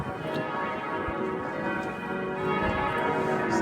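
Church bells of Strasbourg Cathedral ringing in the distance, faint tolls carrying over a steady outdoor wash of ambient noise with no talking.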